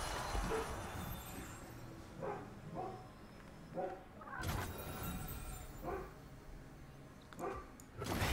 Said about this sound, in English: He's barking right now.